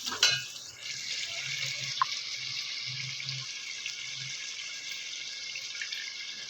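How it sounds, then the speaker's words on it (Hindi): Water poured into sizzling chicken karahi masala sets off a sudden loud hiss that settles into a steady, close bubbling sizzle, with a few soft knocks and no voices. "और इसमें हम हल्का सा पानी डालेंगे"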